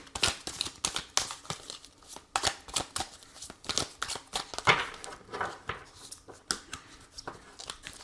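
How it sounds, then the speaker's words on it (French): Tarot cards being shuffled and drawn by hand, heard as close, crisp riffles, slaps and papery crinkles in irregular bursts, with no voice over them. "on va prendre 3 cartes du tarot pour voir les énergies importantes qui vont vous accompagner"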